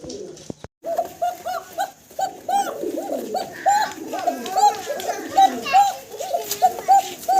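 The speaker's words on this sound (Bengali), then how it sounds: "মাশাআল্লাহ আপনাদের ককার ডাক শোনাচ্ছি, দেখতে পারতেছেন চমৎকার ডাকাডাকিতে ব্যস্ত আছে" Fancy pigeons, males calling, coo in a close, rhythmic series of throaty repeated calls, with a few faint voices in the background.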